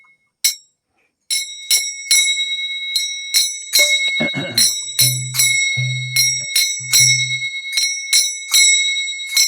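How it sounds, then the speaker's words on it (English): Repeated bright bell strikes ring out in a steady pattern during a devotional class at Sridham Mayapur, West Bengal, with a few low tones joining partway through; the bells stay loud and close throughout and no one speaks. "bells playing?"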